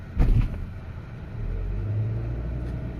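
A Volvo XC40 T4 FWD Momentum thumps over a harsh speed bump with a couple of low jolts, then its engine and tyres rumble steadily as the car rolls on, heard from inside the cabin.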